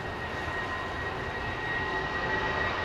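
A jumbo jet at London Heathrow Airport gives a steady, loud, broadband engine roar with a thin high whine held over it, continuous and even for the whole stretch, with no voices.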